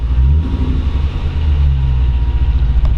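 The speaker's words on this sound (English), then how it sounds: "LS1 underneath the hood starts right up" A 1946 Ford Deluxe convertible resto-rod with an LS1 V8 fires up and settles into a deep, steady idle, close and loud with a rumbling low burble and no talking.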